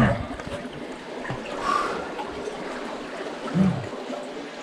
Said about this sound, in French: J'entends une autre cascade.